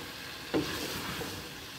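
Pumpkin pieces sizzle in a hot pan while being stirred, a soft steady frying hiss with one sharper scrape of the spoon, close by and without talk.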